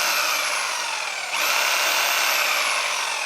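Power saw fitted with a Bosch Basics blade, cutting wood, with a loud, close, steady high whine that dips briefly and then picks back up.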